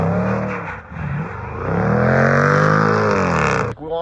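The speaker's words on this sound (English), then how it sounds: "So we're gonna try a little spin class in the Jag and see what it's like." A Jaguar F-Pace SVR driving on snow, its engine note climbing and holding a sustained rev, then cutting off abruptly near the end, loud and close, with no talking over it.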